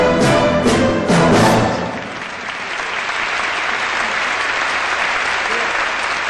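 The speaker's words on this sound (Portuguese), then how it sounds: "Nossos aplausos para Cléo Brandão e Silvio Luiz." Loud audience applause at a television gala, dense clapping with a voice over it at first, then settling into steady sustained clapping from a large crowd for several seconds.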